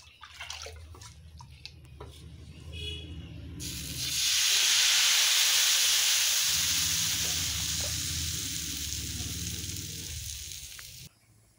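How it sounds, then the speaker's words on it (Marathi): Rice batter for Konkan amboli is poured onto a hot pan. After a few soft clinks, a loud, close hiss bursts in and holds as a steady sizzle that slowly fades, then cuts off sharply. "दुसरी आंबोळी मी तुम्हाला घालून दाखवते"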